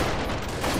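A short, dense stretch of continuous gunfire from the video game Freeman: Guerrilla Warfare, loud and unbroken, with a rumbling low end.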